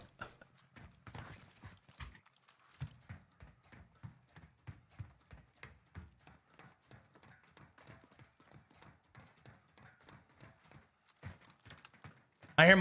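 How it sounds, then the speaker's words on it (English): Rapid footsteps in the video game Call of Duty: Warzone, a long run of quick, light taps at a steady pace, fairly faint and continuous. "Or is that your footsteps I'm hearing?"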